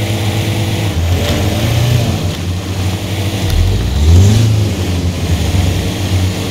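Vehicle engine in Expeditions: A MudRunner Game, a loud steady low drone with rising and falling revs, swelling hardest near the middle, running continuously with no talk.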